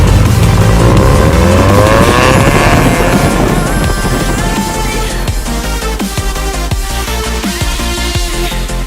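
A 1990 Mazda Miata with a catback exhaust drives past, loud engine and exhaust note rising and shifting through gears under heavy wind buffeting on the microphone, no talking.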